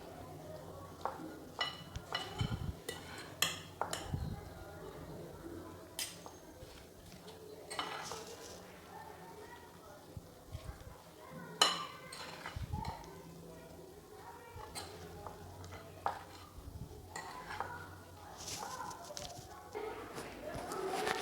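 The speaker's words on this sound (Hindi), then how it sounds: "चलें जी, अब मैं अच्छी तरह से ये सारी चीज़ें मिक्स करूँगी इसमें।" Creamy salad ingredients mixed in a dish with a utensil, soft irregular clinks and scrapes against the bowl over a long stretch, fairly quiet, with faint background noise and a few sharper knocks.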